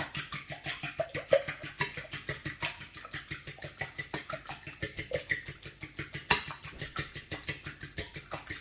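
Eggs being whisked with salt in a bowl, a steady quick rhythm of fork or whisk strokes ticking against the side, close and fairly quiet, with no talking.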